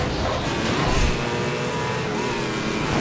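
Racing video game car roaring along with a steady engine drone, with a rough broadband burst as it crashes into a wall, loud and continuous throughout.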